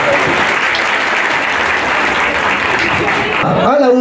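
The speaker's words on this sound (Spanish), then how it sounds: "los aplausos para los flamantes esposos" A wedding crowd at a religious ceremony in Huaraz applauds the newlyweds with loud, continuous clapping that fills the room and cuts off abruptly near the end, where a voice and a brief tone take over.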